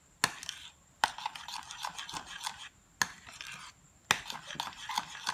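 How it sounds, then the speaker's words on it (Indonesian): A spoon stirs a melted chocolate and butter mixture in a bowl, giving repeated scraping strokes in short bursts separated by brief pauses, close and fairly quiet, with no talking. "Dan kita aduk lagi."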